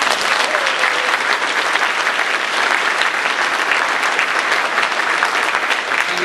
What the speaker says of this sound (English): we should all applaud them for that caring